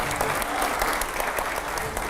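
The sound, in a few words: audience applause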